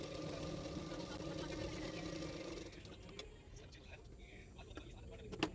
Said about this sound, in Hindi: अभी सिर्फ किनारे किनारे पे मैं सिलाई कर रही हूँ, मिडिल में नहीं।